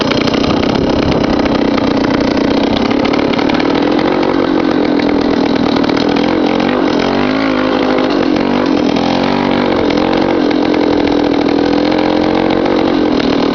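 A Honda MT250 Elsinore trials motorcycle picks its way over rocks, its single-cylinder engine buzzing loud and close throughout with rising and falling revs and no talking.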